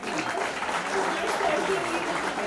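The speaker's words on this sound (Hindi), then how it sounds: "तालियां हो जाएं" Sustained applause from a crowd, dense and even clapping at steady volume for the whole stretch, with faint voices mixed in.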